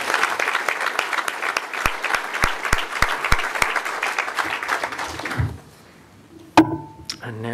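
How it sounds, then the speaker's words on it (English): Audience applause at a community organisations award ceremony: dense, steady clapping from a crowd for about five seconds, then it stops abruptly, leaving near-silence and a brief voice. "Please give a big round of applause to Julian Priest."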